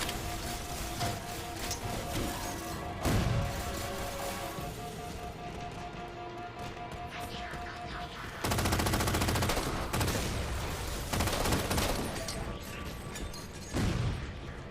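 Automatic light machine gun fire in Halo 4, sustained bursts with louder volleys near the start and end over a busy game soundscape.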